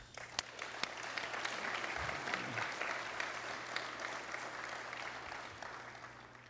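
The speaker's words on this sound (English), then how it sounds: "Please, please give yourselves a round of applause." An audience at a business session claps steadily and evenly throughout, a broad, fairly quiet wash of applause heard from a distance with no voices over it.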